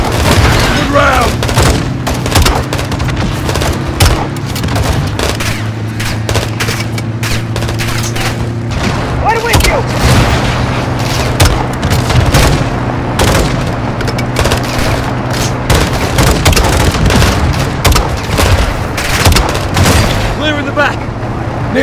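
Dense combat in Call of Duty Modern Warfare 2: loud launcher explosions and gunfire boom and crack continuously over a rumbling vehicle drone, with soldiers shouting amid the chaos.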